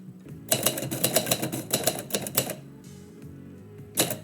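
Manual typewriter keys striking in a quick, uneven burst while a poem is retyped, close and loud, then a pause before a final single clack.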